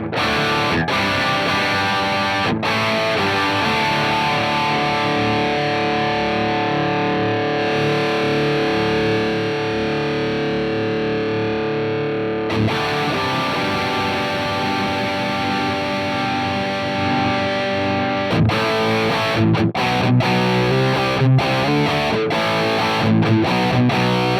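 Heavily distorted electric guitar through a Soldano amp simulation in STL Tones AmpHub chugs and rings continuously, dense and loud, with brief breaks between riffs and chords.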